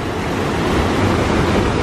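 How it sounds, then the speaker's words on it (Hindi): Strong, fast-running water rushes steadily through a narrow lane in hilly Mussoorie, a dense, continuous broadband roar with no breaks and no voices. "यहाँ देखो पानी का फ्लो तो बहुत तगड़ा है"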